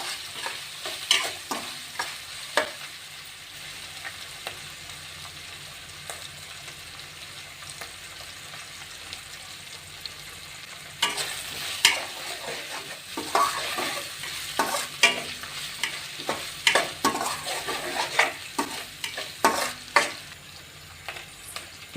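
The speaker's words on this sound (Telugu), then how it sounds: "ఇదంతా బాగా వేయించుకుందాం." Chopped onions with a pinch of turmeric fry in a pan for mushroom masala curry, giving a soft continuous sizzle and spoon scrapes that turn busier and louder partway through.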